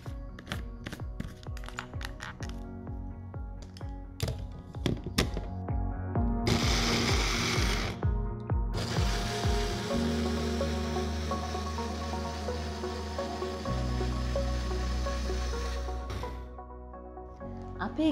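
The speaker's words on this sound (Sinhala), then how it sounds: "ඊළඟට අපිට තියෙන්නේ මේක හොඳට බ්ලෙන්ඩ් කරගන්න." Blender whirring green juice in a kitchen, starting after a run of sharp taps and clunks, then a steady loud motor drone that shifts pitch in stages as the blend changes.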